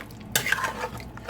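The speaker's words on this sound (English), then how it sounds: "Now I'm going to stir that properly and allow it to simmer." A spoon stirs Jamaican oxtail stew with lima beans in a pot, a brief scrape and clink with soft liquid sloshing, quiet and close.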